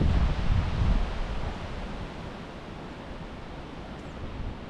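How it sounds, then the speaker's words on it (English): Strong outdoor wind roars in broadband gusts on a wood-cutting morning, loudest at the start and then settling into a steady blustery rush buffeting the microphone, with no voices. "A lot of wind today."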